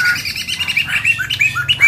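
A Poksai mantel laughingthrush sings loudly and close, a rapid run of bright whistled chirps and rising notes in a continuous flowing phrase.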